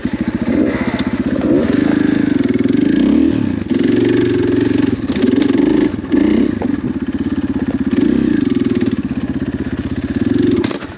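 Dirt bike on a tight wooded single-track trail near Nevada City, California: a continuous loud, close engine drone with repeated revs and throttle surges, plus clatter from the rough ground.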